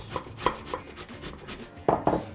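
Fresh carrots rubbed against a kitchen grater in a home cooking setup, a few quick rasping strokes close by with short gaps between them.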